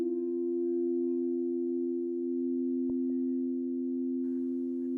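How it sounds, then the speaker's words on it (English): A singing bowl rings with a steady, sustained pure tone and faint overtones, humming evenly throughout with a couple of soft taps partway through. "what sound bowls can do is break up those energetic blocks on a frequency level"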